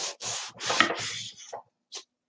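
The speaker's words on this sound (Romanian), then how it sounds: "Ia uite, să tăiem toată vânăta." Knife cutting eggplant on a board, a quick series of four or five close crisp chopping strokes followed by a couple of lighter taps.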